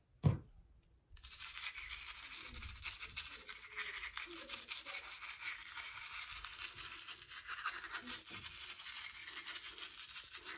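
Toothbrush scrubbing teeth close up, a steady rapid bristly rubbing that runs continuously for about ten seconds after a brief knock at the start, with no talking.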